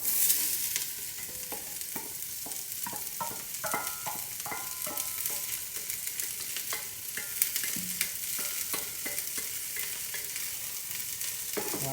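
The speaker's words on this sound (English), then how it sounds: "So we got a lot of vegetables to saute." A large batch of vegetables sautés in oil in a pan, sizzling steadily up close for twelve seconds while a utensil stirs and taps repeatedly, with no talking.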